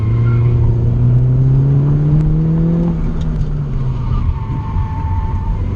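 A car on a race track accelerates hard with its engine note climbing and then easing, loud and steady from the cockpit, with an instructor coaching over the noise.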